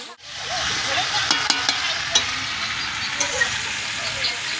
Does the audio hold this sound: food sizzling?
yes